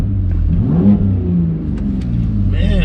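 Engine of a BMW M2 Competition revs up close, a loud rising and falling growl with sweeping pitch changes, while people talk over it.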